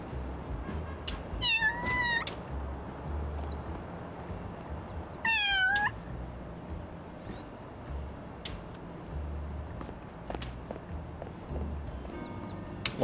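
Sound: cat meowing in the video game Little Kitty, Big City

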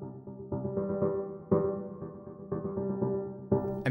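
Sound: piano layers pitch-shifted by a square LFO

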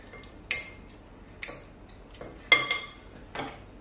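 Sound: breaking cookies into pieces for homemade cookies and cream ice cream

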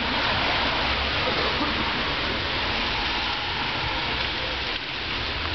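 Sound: local rain shower

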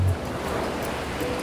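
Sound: artificial waves from Endless Surf compressed-air wave generator

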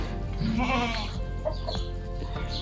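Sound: goats bleating on a goat farm

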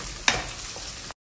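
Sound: onions frying in a pan

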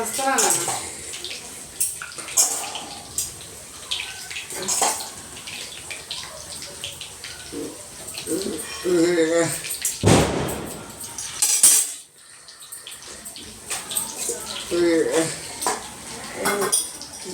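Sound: washing dishes and vessels

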